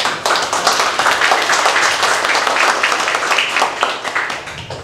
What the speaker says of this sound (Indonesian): Kita beri aplaus ya.